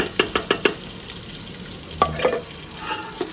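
Onions tipped into ginger-garlic paste in a hot pot and stirred: several quick spoon clacks against the metal, then a soft steady sizzle with further scraping, close up and without speech.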